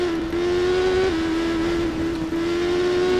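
A motorbike in the Isle of Man TT video game holds a steady, high engine drone close by, with small pitch shifts as another rider closes in to overtake.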